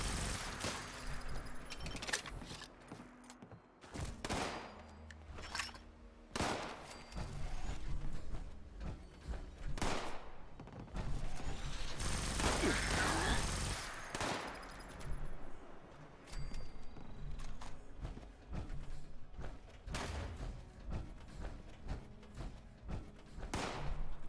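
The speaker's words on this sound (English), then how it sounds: "Who's shooting at me?" Gunfire in the video game Fallout 76: bursts of sharp shots come in clusters over game ambience and mechanical clatter, with one long dense barrage in the middle and no speech.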